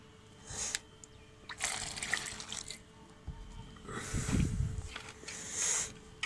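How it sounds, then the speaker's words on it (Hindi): Water poured into a chick feed mixture in intermittent splashy bursts, trickling and gurgling close by, with quiet pauses between pours. "इसके अंदर खुला पानी गिरा देते हैं।"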